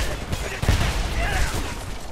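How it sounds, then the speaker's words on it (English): Gunfire in the shooter video game Homefront comes as a dense, noisy burst of shots and explosions that fills the whole moment. The shooting is loud and continuous. "I'm not going to keep moving in advance into a hail of gunfire."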